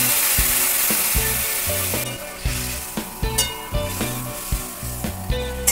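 Fish head sizzles in hot oil in a home kitchen as a paste of ground ginger, coriander and cumin goes in, with a steady frying hiss, rhythmic stirring knocks and background music underneath.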